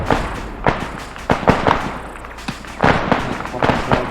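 Gunfire in Arma 3 comes as a string of sharp, punchy reports in irregular bursts, some clustered close together and others spaced apart. The shots sound fairly near and loud over a steady background rumble.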